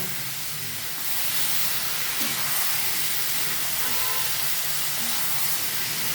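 Water is poured into fried spice paste for a fish curry, setting off a loud, continuous steamy hiss and sizzle that swells after the first second and holds steady, close by with no talking.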